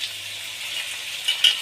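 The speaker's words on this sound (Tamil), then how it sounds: "இப்போ கொஞ்சோண்டு தண்ணி ஊற்றிக்கலாம்." Capsicum masala sizzles in a pan as water goes in, giving a steady soft hiss with a couple of faint clinks near the end.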